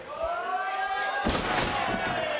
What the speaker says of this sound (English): Suplex and a beauty.